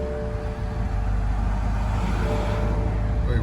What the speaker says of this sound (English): So this is what the car sounds like right now when I started at all times.